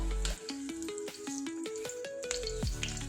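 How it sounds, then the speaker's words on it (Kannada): Steady crackling sizzle of garlic frying in hot oil, heard beneath a melodic tune that steps up and down in pitch. "ಎಣ್ಣೆ ಬಿಸಿಯಾಗಿದೆ ಅದೇ ರೀತಿ ಮೊದಲನೇದಾಗಿ ಬೆಳ್ಳುಳ್ಳಿ ಹಾಕೋಣ"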